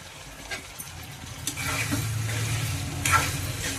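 Mint leaves tossed into chicken curry in a pan, with a steady close sizzle of frying and scraping stirring strokes that swell after the first second and hold to the end.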